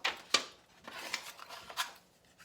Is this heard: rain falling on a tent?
no